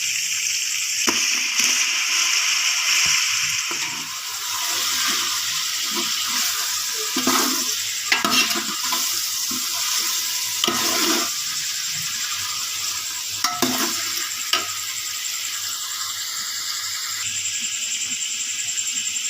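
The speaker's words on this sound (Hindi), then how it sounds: "चिकन को हमने डाल दिया था और इसकी भुनाई भी कर लिया हमने अच्छे तरीके से।" Chicken fries with onion and garlic-ginger paste in a pan, a steady loud sizzle with intermittent scraping stir strokes, continuous and close, with no talking.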